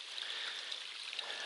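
Continuous soft rush of a small stream flowing at a trail water source, a steady, fairly faint babble with no voices.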